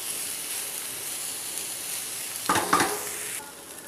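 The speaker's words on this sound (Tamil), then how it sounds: "அதில் வந்து அந்த காலிஃப்ளவரில் இந்த ஸ்பைசஸ் எல்லாம் இறங்கணும். அதுக்காக நல்லா ஆயிலில் வதக்கிக்கலாங்க" Cauliflower sautéing in oil with spices gives a steady soft sizzle throughout, with a short burst of stirring and scraping in the pan near the end before it settles back to a quieter hiss.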